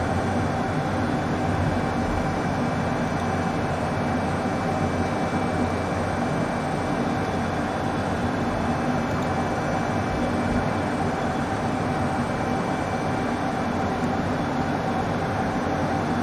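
A HondaJet cabin in cruise in a flight simulator, a steady broadband engine and airflow drone that holds constant and fairly loud throughout, with no talking.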